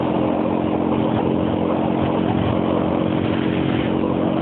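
A motorcycle engine drones loud and steady throughout, close by and unbroken, with no talking over it.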